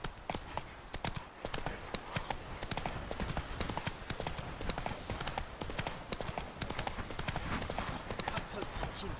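A horse gallops in The Witcher 3 video game, its hooves clip-clopping in a fast, steady rhythm throughout, with a voice talking over the hoofbeats.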